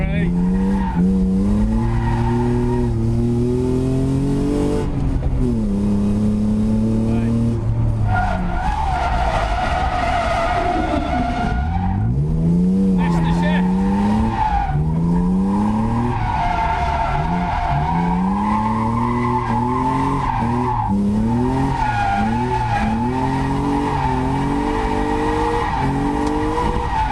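A BMW E36 Compact with a swapped M52 engine drifts with the engine bouncing off the rev limiter, its loud, rising and falling drone joined by steady tire skidding throughout.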